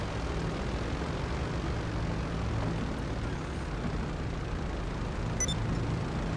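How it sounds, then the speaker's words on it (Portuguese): A GTA 5 Online airplane's engine roars steadily in flight, a loud continuous broadband drone that holds an even level throughout, with no voices. "Manobras radicais com o avião."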